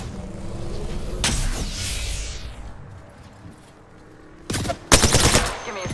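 Gunfire in the Apex Legends battle royale game: a loud burst early, a quieter stretch, then two sharp, close bursts of rapid automatic fire near the end.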